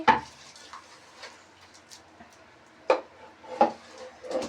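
A spoon scraping and clinking in a pot while moong dal is mixed with tamarind and tomato, a few sharp metallic knocks spread over a quiet background, no talking.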